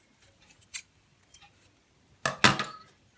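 Scissors snip away serger thread in a quiet sewing room, with a few small light clicks followed by two crisp, close cuts near the end.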